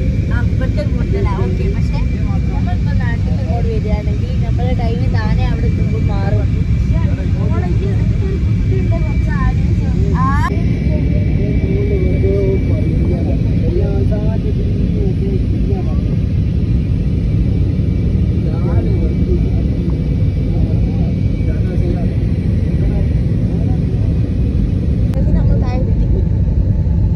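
Cabin noise aboard a passenger flight from Jeddah to Mumbai during landing: a loud, continuous low engine and airflow rumble throughout, with faint voices and small clicks mixed in.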